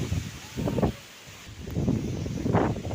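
Stormy gusts of wind at a riverside in Pujali, where fishing boats are pulled ashore, buffet the microphone in uneven rumbling bursts, with a steady rushing noise in between.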